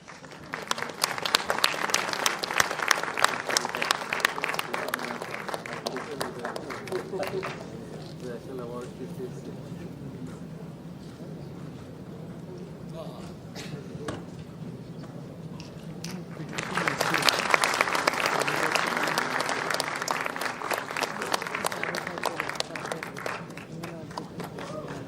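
Audience applause breaks out at a formal conversation event with a government dignitary, loud clapping at the start, easing to a quieter murmur in the middle, then surging again into a second strong round of applause.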